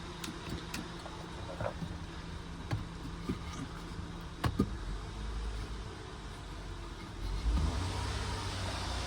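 A 2011-2017 Honda car engine idles during an oil flush with the throttle pedal wedged, a steady rumble with a few brief rises in revs and small clicks, fairly close.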